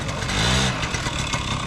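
Rented scooter engine revving close by, a short rising buzz that climbs in pitch and then settles into a rough, steady running note.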